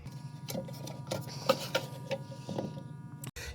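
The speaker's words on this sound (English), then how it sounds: "Take your tray with the 3 pointy screws facing out, and you're going to slide that back into your case" Sheet metal drawer tray sliding back into its metal case, a close, continuous rattling scrape with small clicks, ending in a brief louder clatter.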